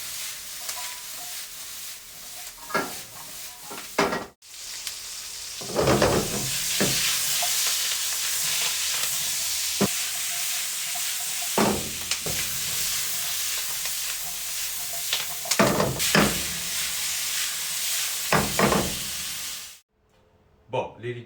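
Mixed vegetables sizzle steadily in a hot pan, each cooked separately, with occasional stirring scrapes breaking through and a voice talking intermittently over the constant frying hiss.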